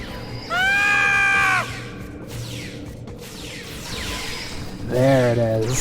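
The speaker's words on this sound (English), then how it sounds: "I always want at least one scream during this." Two loud, drawn-out screams from the video game Star Trek Online, one early and one near the end, separated by quieter game ambience and a speaking voice.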